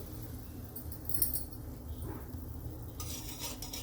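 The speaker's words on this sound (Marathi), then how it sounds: "आता आपण कमी गॅस करून पीठला हटवून घेऊ" A spoon stirs flour into boiling water in a pot over a low gas flame. A steady hiss runs underneath, with light scraping and clinking from the utensil.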